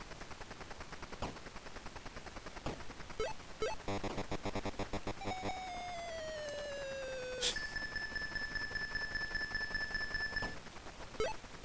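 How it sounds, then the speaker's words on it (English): An Atari 2600 game's electronic ambulance siren tone sweeps in pitch and then holds steady, heard amid dense rapid gunfire and clattering effects. "I guess that sound is supposed to be the ambulance's siren"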